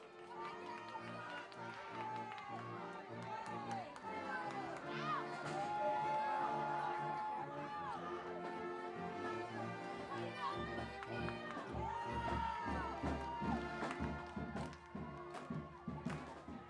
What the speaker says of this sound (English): I'm just going to be quiet for a second and let you listen to this crowd